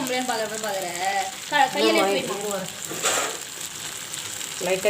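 Quail pieces fry in a pan with a close, steady sizzle, while a voice murmurs over it partway through.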